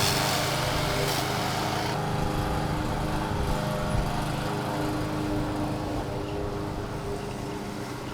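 A lawn crew mows near a docked 36-foot Marine Trader Europa boat, with a loud, continuous mower engine drone dominating the whole stretch and steady, close, high-pitched buzzing throughout.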